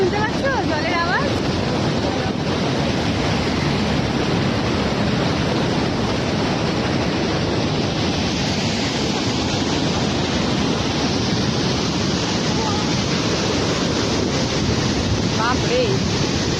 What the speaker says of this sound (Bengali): আওয়াজ শুনতে পাচ্ছ? জলের আওয়াজ।